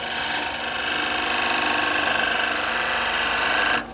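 A chisel cutting spinning wood on a Shopsmith lathe gives a loud, continuous close-up rushing scrape with a steady hum underneath, stopping abruptly near the end.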